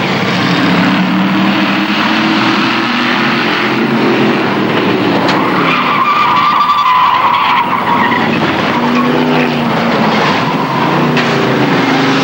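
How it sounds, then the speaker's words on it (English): ARCA SuperCars at KilKare Speedway in a 1995 race touch and spin, tires squealing in a loud skid over roaring engines. A higher screech rises in the middle before settling back into steady track noise. "Suffren and Estes make contact. Estes spins. Gets nailed by several cars."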